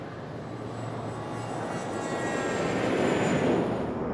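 A Beechjet 400 business jet with twin Pratt & Whitney engines passes overhead, a broad steady roar with a thin whine that slowly swells louder toward the end.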